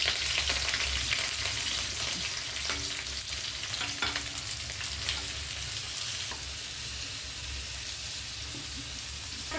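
Onion fries in hot oil with cumin and curry leaves, giving a constant, close hissing sizzle broken by a few light stirring knocks against the pan.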